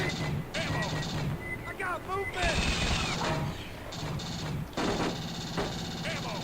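Rapid bursts of gunfire from the Aliens: Extermination arcade light-gun game (Play Mechanix, 2006), repeated shots hammering creatures that release alien spiders, loud and dense with game effects and voices over much of the stretch.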